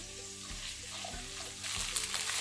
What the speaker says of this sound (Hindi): ऑयल के गर्म होते ही हम इसमें भिंडी डाल देंगे